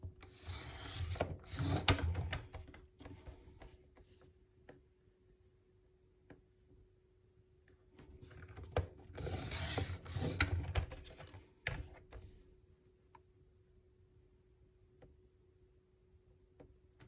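A rotary CM paper trimmer's blade rasps along its guide in two separate passes, each a few seconds of gritty scraping and clicking, quiet and close, with near silence between them.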